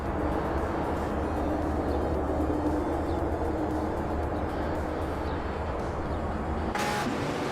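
Racing engines from a 1968 Dodge Dart Hemi Superstock and rival cars in a racing video game, a steady low roar and drone that holds constant throughout, with a brief brighter whoosh near the end.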